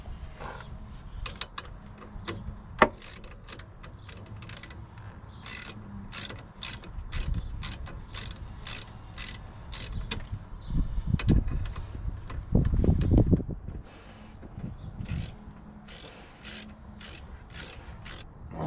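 Rapid, repeated ratchet clicks as caliper bolts are tightened on a car during a brake caliper swap. The bursts come close and loud, alternating with short pauses and metallic handling noise, and no one speaks.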